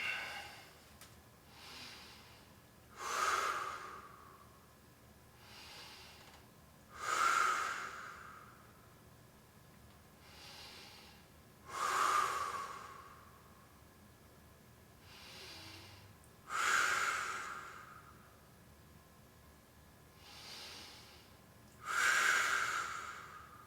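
Heavy exercise breathing during a feet-elevated side plank, with five loud, forceful exhales spaced about every five seconds and softer inhales between them, close up with no talking.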